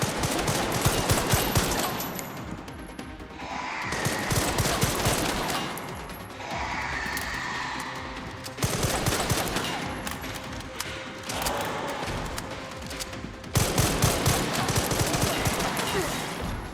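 Sustained gunfire from the Resident Evil 9: Requiem video game rattles on in dense, rapid bursts. Loud volleys are broken by brief lulls, with thuds mixed in and little talk.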